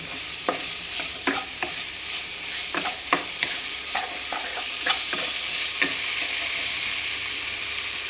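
A spoon stirs vegetable pulao ingredients in a hot pan, with repeated scraping knocks over a steady background sizzle that continues after the stirring stops.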